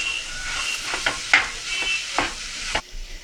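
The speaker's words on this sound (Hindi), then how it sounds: "अब इसमें मैश्ड पोटैटोज डाल देंगे और इसको अच्छे से मिक्स कर लेंगे" A spoon stirs a mashed potato stuffing in a hot pan for mirchi vada, giving soft scraping strokes over a steady sizzle, close and distinct.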